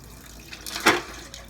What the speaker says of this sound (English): I'll just swish it and empty it and see what happens.